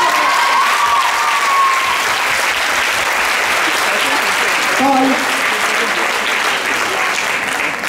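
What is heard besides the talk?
audience applause after theatre performance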